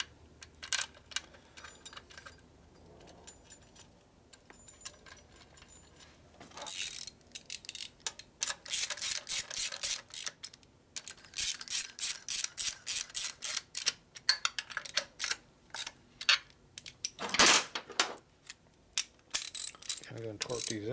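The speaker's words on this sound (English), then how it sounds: "I'm going to torque these in." A ratchet torques bolts on a Harley Shovelhead stroker big-bore motor; after a quiet start come repeated sharp clicking bursts of the pawl in quick strokes, close and loud, with a brief metallic clank near the end.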